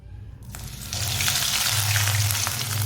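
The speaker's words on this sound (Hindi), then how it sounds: "ऑयल हमारा अच्छी तरह गर्म हो चुका है। अब स्नैक डाल लेंगे।" Bread and potato tikki snacks drop into hot oil and burst into a loud, close, continuous sizzle and crackle after a brief quiet start.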